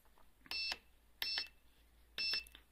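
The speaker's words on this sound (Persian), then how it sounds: "چون یکیش خالیه نمیره، آلارم میده" A three-phase mains voltage and current measuring device sounds three short, shrill electronic alarm beeps at uneven intervals, with nothing else audible.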